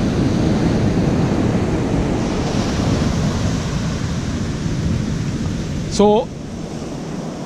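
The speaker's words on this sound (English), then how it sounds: "You can see here's the ocean, wonderful, active" Steady ocean surf at a Sri Lanka resort washes continuously in a broad, close roar with wind buffeting the microphone, and a woman's brief spoken word comes near the end.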